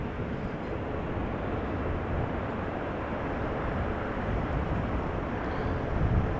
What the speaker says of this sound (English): That is Delta Airlines flight 49 to New York JFK A330neo.